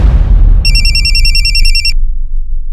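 A telephone rings with a call from a pizza outlet, a bright warbling electronic ring repeating for over a second before cutting off, heard over a deep rumbling background with no talking.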